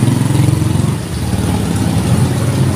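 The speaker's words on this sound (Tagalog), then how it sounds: "Yung mga tricycle na dumadaan dito" Motorized tricycles pass along a road in a steady, loud, close engine drone, with no talking.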